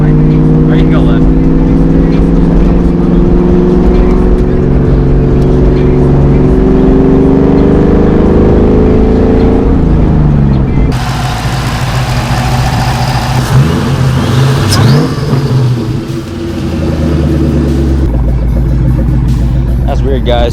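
A Ford Mustang with a burning clutch drives along, its engine droning and revving steadily up close, pitch shifting as it changes speed, with road and cabin rumble throughout.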